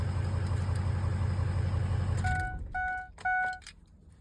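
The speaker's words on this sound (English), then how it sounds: "even with that open exhaust, the truck really isn't that loud" A 2003 Ford F250 Super Duty with a 6.0L engine and a turbo-back exhaust with no muffler or catalytic converter rumbles steadily at idle for about two seconds. Several short electronic beeps follow as the engine sound drops away.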